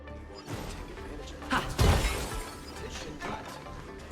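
Pots shatter in the video game Honkai Star Rail, a few crashing breaks grouped near the middle with one loud smash, set in game sound and background music, with a voice talking over part of it.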